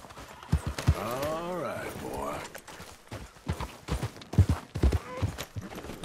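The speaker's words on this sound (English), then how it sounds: "Call my horse over to me. Here it comes." Horse hooves clip-clop in the Red Dead Redemption 2 video game as a horse is called over and trots up, with several distinct hoof thuds arriving amid game speech and a whinny-like voice sweep.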